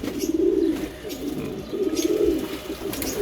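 Racing pigeons in a Dhaka loft coo after bathing, several rolling, pulsing coos repeating close by in overlapping waves, loud and clear with no talk.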